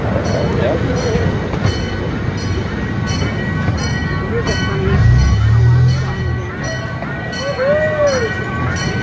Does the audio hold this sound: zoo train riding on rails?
yes